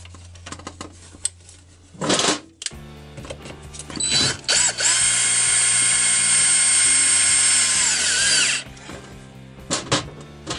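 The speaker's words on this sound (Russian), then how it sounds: "Закручиваем болты." A power tool drives bolts home on a string trimmer during a clutch spring replacement, with short bursts of whirring followed by one long sustained run of several seconds, loud and close.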